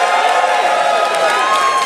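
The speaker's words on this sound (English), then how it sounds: "Everybody cheer if you received your credit." An audience on a cruise cheers and whoops together in a loud, dense burst of crowd noise that stays steady throughout.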